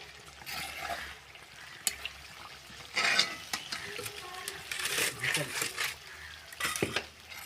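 Chicken parts frying in a pan at home are stirred in irregular scraping bursts over a continuous sizzle, with occasional utensil clinks against the pan.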